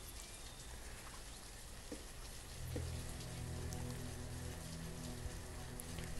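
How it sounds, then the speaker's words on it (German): Steady, dense rain patters throughout the city-building game Banished, with a low rumble swelling in partway through and continuing under the downpour; no one speaks. "Ist ja richtig deprimierender Regen, der hier."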